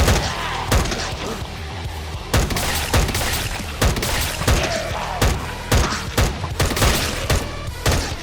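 Rapid gunfire from a turret in Minecraft, a long run of sharp, loud repeated shots in an uneven rhythm with short gaps between bursts, close and dominant.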